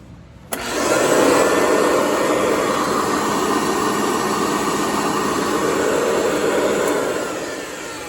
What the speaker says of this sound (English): Motor doesn't sound as healthy as I would want it to, but it's still functioning for now.